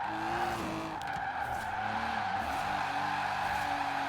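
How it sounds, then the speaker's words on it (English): Tires squeal in long wavering whines as a car drifts in Forza Horizon 4, racing on a road toward a highway, with a steady engine drone underneath throughout. "Some drift along the way."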